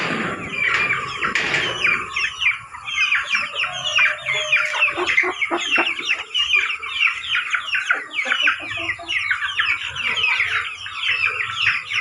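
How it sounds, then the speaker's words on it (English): Backyard chickens cluck steadily and busily throughout, with a rooster's crow rising near the start, all close and fairly loud against a faint constant hum. "All the chickens are fine,"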